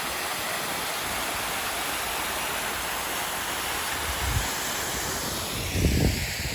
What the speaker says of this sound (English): this may qualify as a waterfall